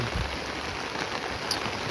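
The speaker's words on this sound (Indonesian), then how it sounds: "cuacanya itu termasuk ekstrim lor karena hujan terus menerus dari tiga bulan yang lalu" Steady rain falling outdoors near a home garden during a long, extreme rainy season, a dense, even hiss of drops on surfaces with no voices.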